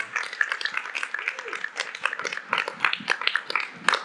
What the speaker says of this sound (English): Y'all give a big round of applause for Dr. Mishelle and Yodit